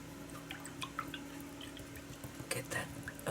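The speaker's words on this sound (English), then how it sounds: "I'm going to clean this with this water" A paintbrush loaded with acrylic paint is rinsed in a container of water, giving soft, irregular drips, splashes and small clinks over a steady low background hum.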